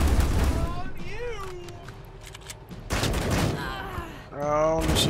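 Gunfire against turrets during combat in Wasteland 3: bursts of shots and impacts near the start and again around the middle, mixed with voices and tonal game effects, fairly close and dense.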